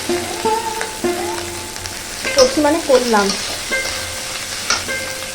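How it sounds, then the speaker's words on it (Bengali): Plain rice fried in a pan for biryani, a steady sizzle with intermittent stirring scrapes, close and fairly loud, with a voice speaking briefly over the cooking. "শুধু বিরিয়ার জন্যই ভাত ভাজা করছি"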